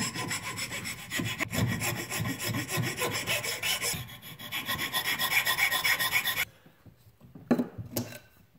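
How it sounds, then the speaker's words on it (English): Hand files scrape back and forth across a wooden whistle to remove saw marks, a loud, close, rhythmic rasping that runs for about six seconds and then stops, leaving a few faint knocks. "They're called files to remove some of the marks left from the saw."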